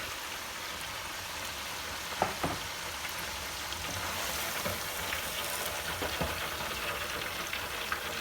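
Fries bubble in a new deep fryer, a steady soft hiss and crackle of hot oil that holds throughout, with a few small clinks and knocks near the start and middle.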